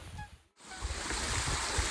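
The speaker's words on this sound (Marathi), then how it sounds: "आज पाऊस सोडून दुसरं काहीच नाहीये" Heavy monsoon rain pours at Sinhgad Fort near Pune, a dense, hissing wash of water that drops out briefly, then returns loud and constant with low rumbling underneath.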